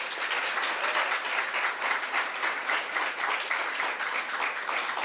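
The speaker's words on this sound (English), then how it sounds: "So I'd like everybody to please applaud them," A conference audience applauds in a large hall, a steady wash of many hands clapping that holds evenly throughout, with no talk.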